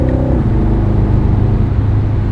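Exhaust of a 2026 Aston Martin Vantage Roadster driven with the top down: a loud, close engine drone that shifts pitch early on, then holds a steady deep rumble with no voices.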